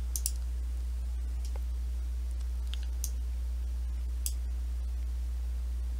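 Computer mouse clicks while saving a downloaded image, a few sharp, quiet isolated clicks spread sparsely over a steady low electrical hum.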